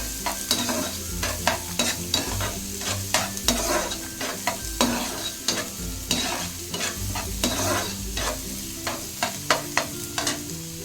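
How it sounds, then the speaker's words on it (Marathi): Onion fries in a pan for a cashew curry and is stirred in quick, regular strokes that scrape and clatter over a low sizzle. The sound stays close and continuous, with no voices. "आता मी ह्याच्यात कांदा टाकते फ्राय करण्यासाठी लाल असा कांदा फ्राय करून घ्यायचा"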